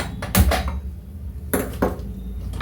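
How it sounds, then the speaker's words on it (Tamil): Brinjal kosthu being stirred in a pot on a stove, with a few close, sharp scrapes and clanks of a spoon against the pot separated by quiet gaps. "ஆன் பண்ணிவிட்டு நல்லா இது கிளறி விட்டுறோம்."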